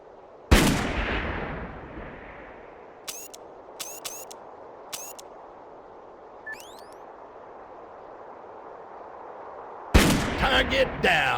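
Heavy gunfire from a powerful weapon in the first-person shooter Darkest of Days: one booming shot early, a few sharp distant cracks in the middle, then another loud close blast with rumbling echo at the end.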